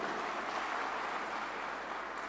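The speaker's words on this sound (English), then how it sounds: "A big round of applause to you." Sustained audience applause in a hall at a temples convention and expo, a steady, even wash of clapping with no pauses, somewhat distant and moderately loud.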